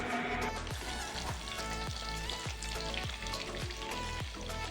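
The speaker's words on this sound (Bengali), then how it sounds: "এবার বাকিগুলো এভাবেই ভেজে নেব।" Honey chicken pakora fry in hot oil, a steady dense sizzle and crackle that stays loud and close throughout, with faint periodic stirring or clinking pulses and no talk.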